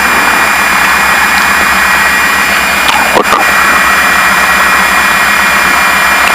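A Piper Seneca twin-engine airplane's engines run at a loud, steady drone, heard close up from inside the cockpit, with a brief crackle partway through.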